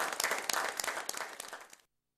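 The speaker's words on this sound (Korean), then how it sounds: "리설준 여사께서 문재인 대통령 내분과 함께 오찬회장에 나오시자 참가자들은 열광적인 박수로 맞이했습니다." Enthusiastic applause from luncheon participants greets the arrival of leaders in a banquet hall, a dense, loud burst of many hands that cuts off abruptly.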